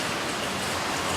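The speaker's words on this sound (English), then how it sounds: "it is raining like hell" Heavy rain falls outside in a dense, continuous hiss of drops with no breaks and no talking.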